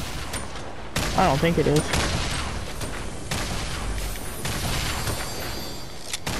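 Grenades being launched and exploding in a shooter video game, a steady barrage of gunfire and booms, with someone briefly talking over it near the start.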